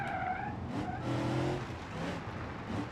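A car skids during a lap in BeamNG.drive, a held tire squeal with engine tone underneath, rising and wavering over a few seconds, close and moderately loud.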